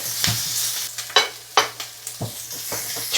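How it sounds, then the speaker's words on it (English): Onion sizzles in hot vegetable oil, crackling softly and evenly, with a few sharp scrapes and clacks as it is stirred in the pan, close and fairly quiet, with no talking. "Add onion. Add a pinch of salt. Saute this for about a minute because we don't want it overcooked."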